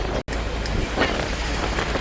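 Steady wind buffeting the microphone, a broad rushing roar throughout with a brief dropout near the start.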